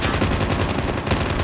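Rapid automatic gunfire in the mobile video game Call of Duty Mobile, a loud continuous burst of closely spaced shots.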